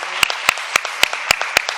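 A church congregation clapping together, with several sharp claps landing in a steady, even rhythm, fairly close, with no talk over them.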